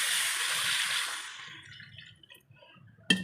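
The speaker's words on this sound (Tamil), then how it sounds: "தேவையான அளவு தண்ணி ஊற்றிக்கலாம்." Water poured into a pan of simmering soya chunk (meal maker) gravy, a bright hissing pour that fades over two seconds into soft bubbling, ending with a sharp clatter.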